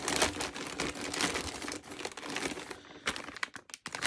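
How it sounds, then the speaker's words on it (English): A plastic bag of parts for a Mugen MSB1 1/10 scale 2WD RC buggy is torn open up close, giving continuous crinkling and crackling with a few sharper rips toward the end, and no voices. "let's tear into this bag here"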